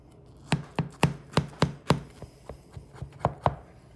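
A knife chops through dense bread pudding that was frozen, giving about a dozen crisp, separate strikes on a board at an uneven pace, close and clear with no talk.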